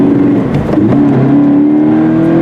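A Subaru BRZ's engine revving as it climbs a narrow road, a loud close drone with a steady pitch that rises briefly then holds, heard alone without talk.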